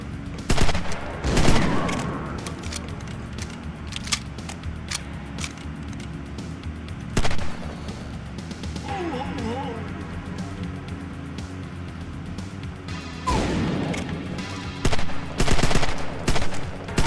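Repeated bursts of video game gunfire, including shotgun blasts, crack out in clusters near the start, middle and end, with quieter game sounds between the volleys.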